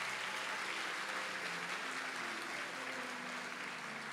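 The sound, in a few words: audience applause for students at awards ceremony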